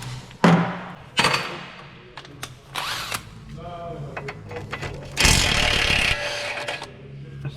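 Impact wrench loosening an 18 mm nut on the front lower arm of a 2016 Nissan Qashqai, with several sharp mechanical bursts and a long rattling hammer run near the end, loud and close.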